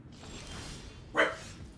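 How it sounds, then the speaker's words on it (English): A single short dog bark, a dog dropping by briefly indoors, sounds once mid-clip over a low room hum, with no talk. "He's barking and leaving."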